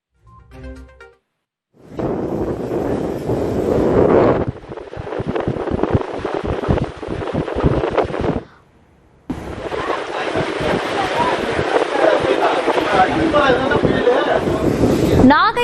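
During Cyclone Ditwah, gale-force wind roars with rough, buffeting gusts over crashing sea waves on the coast at Pattinapakkam in Chennai, loud and continuous apart from a brief lull midway.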